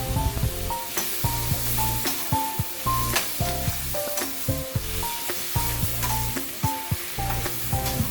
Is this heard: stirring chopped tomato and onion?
yes